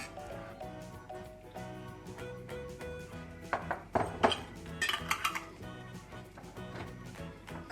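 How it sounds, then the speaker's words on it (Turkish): Glass jars of plum preserves, lids tightly closed, clink and knock against a metal cooking pot as they are set in upside down, with irregular taps and a few sharper clatters in the middle. "kapaklarını sıkıca kapattığım kavanozlarımı tencereme ters bir şekilde yerleştiriyorum"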